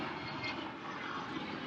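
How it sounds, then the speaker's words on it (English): An airplane drones steadily overhead on a cloudy, cool December day, a continuous moderately faint engine rumble with no talk. "there seems to be an airplane every time I try to do this"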